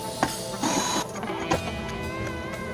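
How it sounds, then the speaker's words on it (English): A handheld label maker prints a label with a whirring, buzzing motor run and a few clicks, close up and alone. "Handy dandy label maker."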